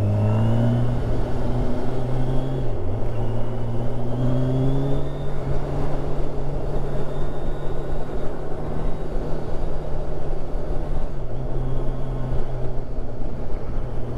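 A Kawasaki Ninja 1000 SX motorcycle engine drones loudly and continuously while riding, with wind rush and pitch dips at a couple of gear changes.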